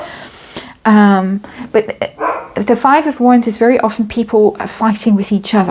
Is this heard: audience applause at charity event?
no